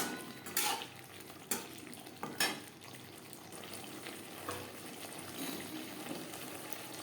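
Spatula scraping and clinking in a pan as potatoes are stirred with spices for a tilapia fish curry, several sharp metallic knocks early on, then soft scraping and faint sizzling.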